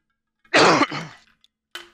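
A player coughs during a tabletop game of 1849: one loud, harsh burst lasting under a second, trailing into a breathy tail, then a brief faint sound a moment later.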